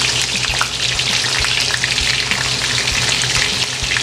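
Fish tofu fries in hot oil, giving a close, constant crackling sizzle with scattered pops and light stirring knocks and no talk.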